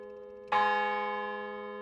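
A single bell in a campanile atop a castle keep, cast in 1443, struck once after a humming tone, its bright clang ringing out and decaying slowly with a long sustained hum.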